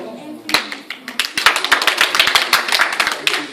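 A crowd breaks into brisk applause after a song, following a moment of quiet, many hands clapping densely and steadily until the end.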